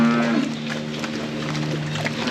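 Cattle in cow pens fitted with motorized brushes, a drawn-out low moo standing out near and clear at the start, then continuing lower over a steady background hum and rustle, with no talking.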